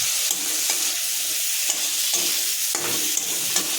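Steady hiss of potatoes and paneer frying in oil, close and even, with occasional spatula scrapes through the sizzle and no talking.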